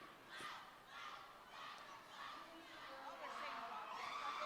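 A roller derby crowd chants a rhythmic cheer in repeated, pulsing bursts of voices, heard from a distance at a modest level throughout.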